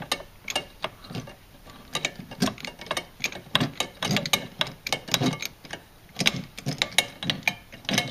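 A ratchet wrench fitted with extensions, a swivel and a 10 mm socket loosens an engine bolt on a Jeep 4.7 HO engine. Rapid, fairly faint clicking runs in quick irregular bursts throughout, close by.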